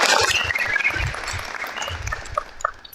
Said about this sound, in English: If you dressed varsity, we'll clap for you